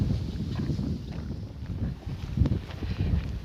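Headwind buffeting a hiker's microphone on the Florida Trail near Lake Okeechobee, heard as low, gusty rumbling that swells and fades in uneven bursts, close and steady with no voices.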